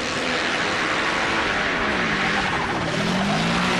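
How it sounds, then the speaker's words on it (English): Supercross motorcycles race through dirt track corners, their engines whining and shifting pitch close by while tires and brakes chatter beneath the continuous roar. "listen to the chatter of the tires and the brakes as they come through those corners"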